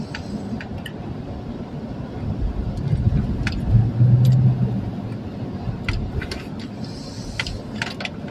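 A car driving in road traffic, with a steady engine rumble and road noise throughout that swells a little midway, plus a few faint clicks and knocks, heard from inside a vehicle with no talk.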